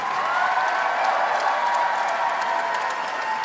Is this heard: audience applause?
yes